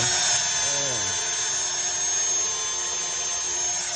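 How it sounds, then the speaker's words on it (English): A high, steady whine of a power drill running continuously up close, with a brief low voice near the start. "This is a very powerful drill, so please be careful."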